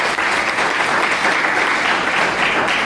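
Audience applause at a company business-plan presentation: a dense, continuous clapping from a large crowd, loud and sustained for the whole stretch with no pauses or voices standing out.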